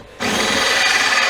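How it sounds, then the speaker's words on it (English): An electric drill bores quarter-inch holes through metal while a bandsaw pedestal is set up, starting after a brief quiet moment and then running as a steady, loud, close grinding whine. "I'm going to drill these holes out to quarter"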